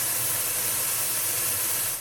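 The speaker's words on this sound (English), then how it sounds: "You have to test you have enough volume for the measurements" Test noise from hi-fi speakers for measurement calibration plays as a steady, broadband hiss for two seconds at an even level, with no talk.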